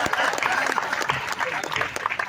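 An audience at a hasya kavi sammelan comedy poetry gathering in Unnao claps in a burst of applause that stays fairly loud and steady for a couple of seconds, mixed with crowd voices.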